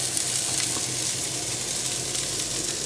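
Broccoli and asparagus sauté in a pan, a steady close sizzle of frying vegetables running evenly throughout with a faint stir-like rustle.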